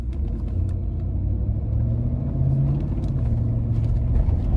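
A 2007 Cadillac Escalade with 290,000 miles drives along with a steady low engine rumble and road noise, heard from inside the cabin.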